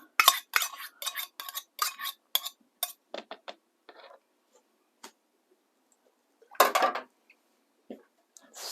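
A spoon clinks and scrapes against a bowl while stirring Greek natural yogurt with other ingredients, a quick run of bright taps followed by scattered softer knocks, a pause and another burst of clatter.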